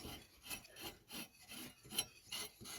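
A replacement cutting-deck tension wheel on a Greenfield mower spinning, heard as quiet rhythmic rubbing swishes about twice a second, close up and soft, without talk.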